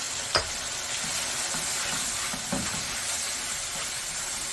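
Red chili and tomato frying in a pan for a chicken macaroni dish, a steady close sizzle with a sharp hiss at the start and another flare partway through.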